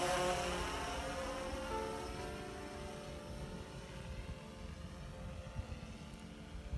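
A drone flies straight ahead toward a patch of woods, giving off a steady droning buzz with a whining, tonal hum that is loudest at the start and eases slightly as it moves away.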